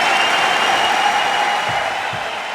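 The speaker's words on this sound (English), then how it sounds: "The crowd showed their appreciation for an absolute classic." Paralympic Games crowd in Paris applauding after a long wheelchair match, a steady wash of clapping that holds evenly and eases off slightly toward the end.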